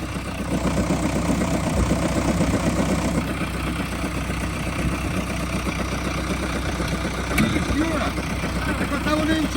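A T-150 tractor engine running in a ploughed field, a steady low rumbling drone heard close up throughout, with people talking over it.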